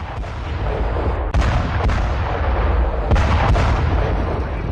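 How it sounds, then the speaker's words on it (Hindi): Bombing strikes on Houthi positions in Sanaa, Yemen, produce a loud, continuous roar of blasts and rumble, with several sharp explosive cracks standing out one after another and no speech. "जहां जोरदार विस्फोट हुआ है, कई धमाके किए गए हैं, एक के बाद एक बम से अटैक किया गया है।"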